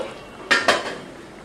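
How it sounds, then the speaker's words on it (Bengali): A metal lid lifted from a pan of egg and potato curry, giving two sharp, close clanks in quick succession before a brief scrape of stirring fades into quiet. "আমি এখন ঢাকনাটা তুলে নেব। তুলে নেওয়ার পর নাড়াচাড়া দিয়ে"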